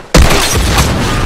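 A grenade explodes in The Last of Us multiplayer during a Supply Raid match: a sudden loud, close blast that booms and then rumbles on with sustained debris noise, no talk.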